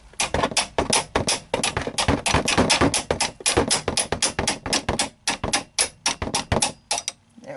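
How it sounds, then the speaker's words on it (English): A powered wrench hammers against the steering knuckle of a 2000 Chrysler 300M, producing rapid, close bursts of sharp metallic impacts in uneven clusters with brief pauses between them. "So my goal is to turn on the wrench and have this wrench hit against the knuckle"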